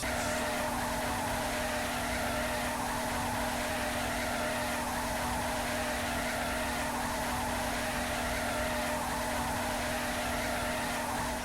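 A persistent car audio bug in the video game Saints Row: The Third, heard as a steady, flat, buzzing engine-like drone with a fixed hum that never changes for the whole stretch.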